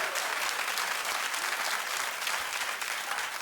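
Steady, dense applause from a talk-show studio audience fills the whole stretch at even loudness, with no speech over it.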